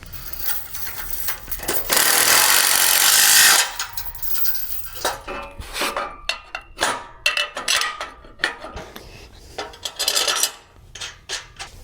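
A nylon nut is tightened with a 9/16 wrench and deep socket while a tent trailer is assembled: a short burst of harsh scraping, then a run of quick, close metallic ratcheting clicks in an irregular rhythm.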